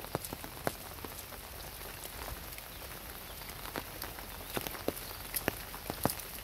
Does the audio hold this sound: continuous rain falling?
yes